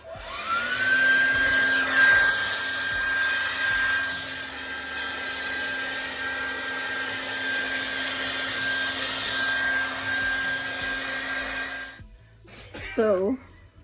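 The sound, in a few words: hood hair dryer drying hair roots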